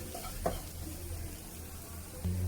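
Chilli powder sautéing in a hot pan for bread upma, a steady soft sizzle with a few stirring scrapes, one louder clink near the start and a fuller burst of frying noise at the end.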